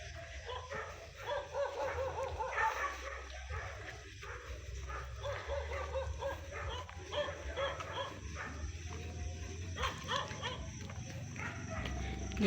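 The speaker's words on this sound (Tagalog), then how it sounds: "Aso." A dog barks and yips repeatedly at a moderate distance along a residential route, steady background noise and possible faint voices underneath the intermittent barking.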